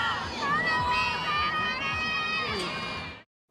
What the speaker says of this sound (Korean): 훈련하는 모습을 바라보는 팬들의 응원과 환호가 끊이지 않고 있습니다